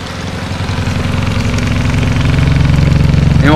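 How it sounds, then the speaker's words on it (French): A One Concept mini washing machine spins at 1400 rpm, a loud steady motor hum and drum whir building up and holding, with a rising whine at the very end. "Là on essore, je sais pas, 2 minutes, histoire de dire. Donc elle essore à 1400 tours"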